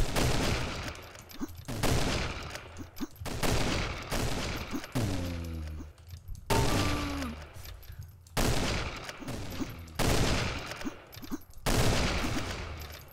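Gunfire in the first-person shooter Cube 2 Sauerbraten comes as repeated loud bursts of rapid shots, separated by short pauses across the stretch, close and dominant.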